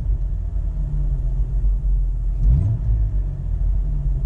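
A Jeep XJ engine with a mechanical fan and shroud plus auxiliary electric fan idles with a low, steady rumble, a brief swell in the middle, close and continuous.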